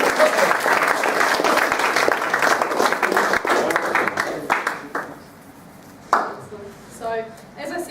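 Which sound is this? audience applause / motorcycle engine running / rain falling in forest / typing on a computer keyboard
audience applause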